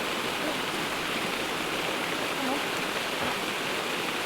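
A waterfall on a mudlarking trip: a steady, broadband rush of falling water fills the scene evenly, constant and fairly close with no pauses.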